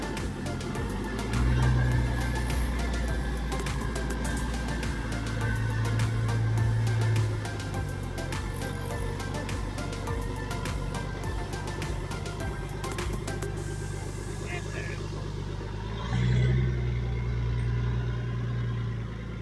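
A truck engine runs steadily after a fuel regulator has been hooked up, a mid-pitched continuous hum with brief swells in revs, heard close with no talk.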